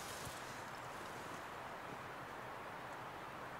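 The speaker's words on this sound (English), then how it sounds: "Those winds are rocking and rolling out there." Steady, broadband wind roars outdoors without pause, a dense rushing noise with faint rustling and no talking, at night on the Appalachian Trail.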